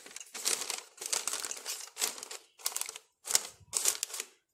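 Paper sheets crumple and crinkle in several close, loud bursts separated by short pauses, with no talking.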